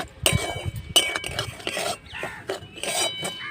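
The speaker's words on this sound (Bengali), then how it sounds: "প্রথমে আমি কড়াতে ঘি দিয়ে দিলাম এইবারে সুজিটা দিয়ে দেব তো বেশি লাল করব না সাদা সাদা হালকা করে ভাজবো" Semolina is fried lightly in ghee in a wok, heard as close, uneven scraping and rasping strokes of a spatula against the metal, with brief clinks between the stirs.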